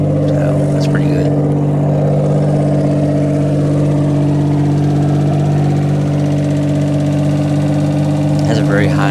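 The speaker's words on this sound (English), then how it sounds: "It's idling very fast." A Mitsubishi 3000GT engine idles steadily at a high, fast rate, a constant droning hum that stays loud and close throughout.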